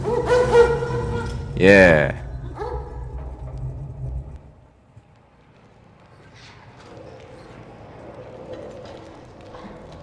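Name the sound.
dog barking in the Mad Max video game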